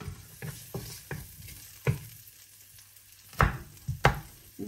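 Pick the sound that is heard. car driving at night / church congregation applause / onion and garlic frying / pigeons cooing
onion and garlic frying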